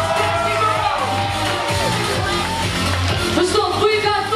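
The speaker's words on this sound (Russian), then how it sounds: "Аплодисменты" A crowd at an outdoor summer concert in Chernomorskoye, Crimea, claps and cheers, with whoops and shouts over steady applause, while music or amplified sound carries underneath throughout.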